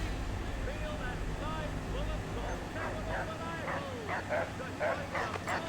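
A dog in the Assassin's Creed III video game barks repeatedly in quick yips and bow-wows, moderately close, over a low rumbling game ambience with a player talking.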